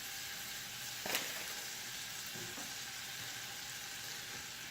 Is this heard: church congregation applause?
no